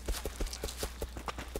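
A pig running away in the survival game Rust, a quick even run of about seven soft thudding footfalls, close and faint, with a low steady hum underneath.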